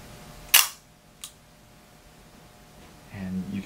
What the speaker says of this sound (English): And I'm going to take a picture.